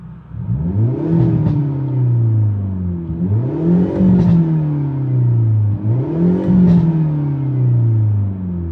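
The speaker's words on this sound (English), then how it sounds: "So let me give it a rev." A 2022 Hyundai Elantra N revved three times in a row, each rev swelling into a loud, close exhaust roar with crackles at the peaks before dropping back to a steady rumble.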